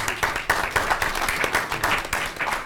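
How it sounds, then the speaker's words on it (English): Audience at a school district board meeting applauding seniors who received scholarships; steady mid-sized clapping that swells and pulses for a few seconds, with a little voice mixed in. "So let's give them a round of applause."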